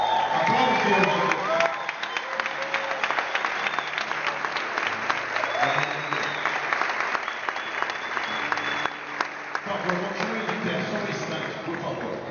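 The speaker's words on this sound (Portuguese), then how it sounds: "Aplaude o Senhor" A standing church congregation at a Sunday evening service applauds the Lord, a long, lively wave of clapping from many people with cheering voices and a speaker talking over it.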